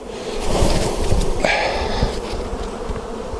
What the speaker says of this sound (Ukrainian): беремо нашого роя